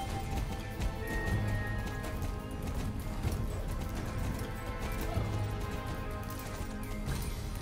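Horse hooves clop steadily while riding in the Star Stable video game, a continuous loud galloping rhythm with dense game sound throughout.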